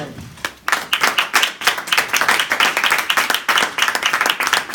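Church congregation breaking into loud, sustained clapping after a short quiet start, many hands in a dense rapid patter that carries on to the end.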